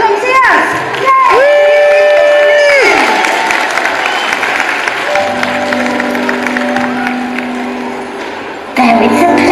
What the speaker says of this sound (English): if we can give him a giant round of applause